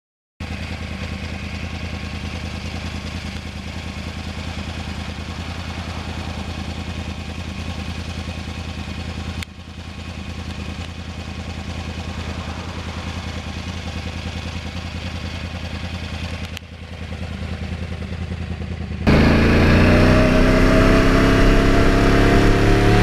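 A 2009 Yamaha R1 cross-plane motorcycle engine idles with a steady, throbbing rumble, then revs sharply near the end, rising loud and close.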